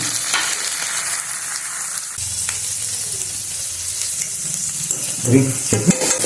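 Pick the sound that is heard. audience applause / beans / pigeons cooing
beans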